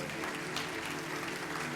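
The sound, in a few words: congregation applauding in church service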